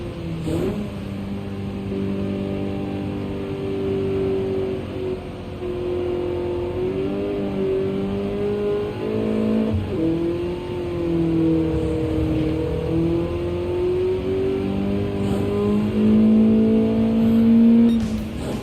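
A race car engine in Gran Turismo 7 drones and revs steadily for a long stretch. The pitch rises and dips through gear changes and wheelspin, and it stays loud and close throughout with no talking.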